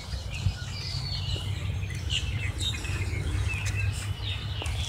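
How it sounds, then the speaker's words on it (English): Birds chirp and call by a lake, including loon-type birds taking off, over a constant low rumble outdoors, scattered high calls coming and going throughout. "Mucky down here, but you can hear all the birds."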